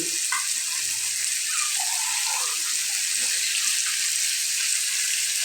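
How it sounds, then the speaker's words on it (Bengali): Steady hiss of water poured into a hot pan of frying fish curry, a constant close sizzle with faint clinks underneath. "এই পর্যায়ে আমি দিয়ে দিব হলো পানি"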